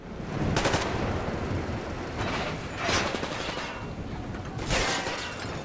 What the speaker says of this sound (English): That is the sound of you hooking up to the train cars